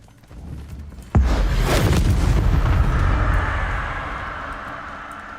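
An Incendio fire spell in Hogwarts Legacy goes off as one sudden, loud, close blast, followed by a long roaring, rumbling decay that slowly fades over several seconds.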